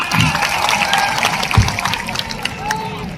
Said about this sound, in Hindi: शाबाश मेरी बेटियों, शाबाश, तालियां, जोरदार तालियां।